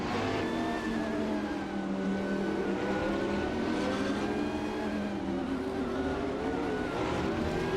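A Radical RXC and a Maserati MC12 race in a video game, producing a continuous, dense whine of engine tones that shift in pitch as the cars battle closely, with no talk.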